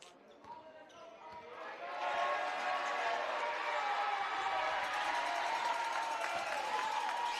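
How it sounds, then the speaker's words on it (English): Crowd cheering swells through a high school basketball gym during Parkersburg South vs. South Charleston as a player checks in, rising after two seconds into a loud, sustained roar with scattered claps. "They're getting some big cheers for the man who's checking in now."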